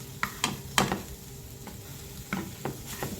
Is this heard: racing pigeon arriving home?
no